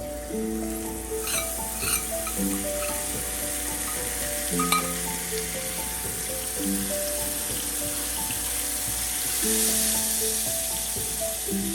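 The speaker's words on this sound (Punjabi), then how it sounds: "ਮੈਂ ਤਾਂ ਇਹਨਾਂ ਨੂੰ ਭੁੰਨਾਂਗੇ ਜੀ ਮਸਾਲੇ ਸਾਡੇ ਭੁੱਜ ਗਏ ਆ ਜੀ" Wet spice paste sizzles steadily in a pan on a medium gas flame, fried after cumin and green chili for spiced jeera aloo, with sustained hissing and occasional stirring under continuous tonal background music.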